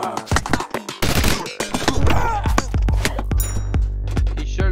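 Rapid game gunfire from a stickman video game crackles in dense bursts of sharp shots, loud and close, with a steady low drone running beneath from about the midpoint onward.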